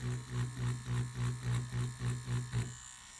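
A Neebol wireless tattoo machine runs on its slowest setting, giving a close electric buzz that pulses in a steady rhythm of about three beats per second, then cuts off near the end, leaving a faint hum.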